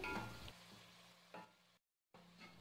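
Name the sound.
onions frying in oil on medium flame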